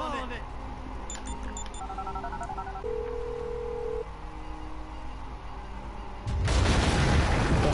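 A phone in the GTA video game is brought out and used, giving a string of short electronic dialing beeps and tones over a steady game background hum, followed by a sudden loud rumbling burst near the end.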